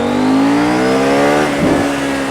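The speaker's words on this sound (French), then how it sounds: "Bon, les petites accélérations en deuxième." A KTM Duke 790 motorcycle accelerates hard in second gear, its engine note climbing steadily and loudly from close range without a break.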